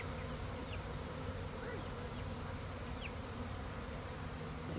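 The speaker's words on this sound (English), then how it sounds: "There's a ton of bees in that box." Honey bee swarm buzzing inside a box, a dense continuous hum of many bees, close and steady, with occasional individual bees flying past.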